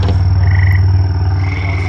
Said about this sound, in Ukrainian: А тут десь за цими деревами невеличкий басейн сусідів. І завжди жаби там якісь квакають.